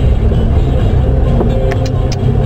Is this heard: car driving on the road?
yes